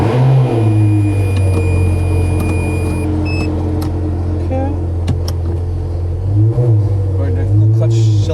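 A Ferrari engine drones steadily during a test drive after a clutch replacement, a loud, close cabin rumble with slight revs toward the end, while a person talks over it.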